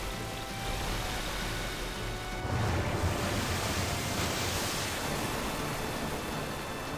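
Steady rushing water from a Final Fantasy VIII summon, a broad continuous roar like a cascading waterfall that swells slightly partway through and holds loud to the end, with no talking.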